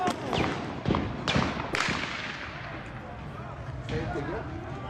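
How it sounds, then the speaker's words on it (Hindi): A few sharp gunshot cracks ring out, echoing in the open, amid crowd noise and people shouting at a protest convoy in Islamabad, Pakistan. "ये बुलेट फायर कर रहे हैं।"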